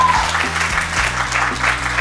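An audience claps and cheers at a live podcast show in Lansing, a dense, loud burst of applause filling the whole moment.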